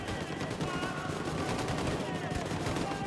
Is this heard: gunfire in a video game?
yes